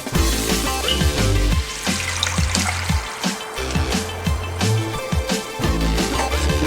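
Tamarind water poured into a simmering egg curry, a steady liquid trickle and splash that runs close and continuous, with clinks of a pot or spoon mixed in.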